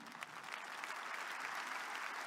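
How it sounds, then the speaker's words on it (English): Church congregation applauding, a steady dense wash of hand claps sustained throughout at moderate loudness with no voices over it. "Let's give God a big round of applause."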